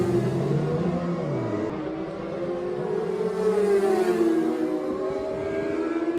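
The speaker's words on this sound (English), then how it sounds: "3 bikes leave together." Racing motorcycles accelerating away together after a pit stop at the Manx Grand Prix, several engines rising and falling in pitch as they rev up and pull off, loud and sustained with no talk.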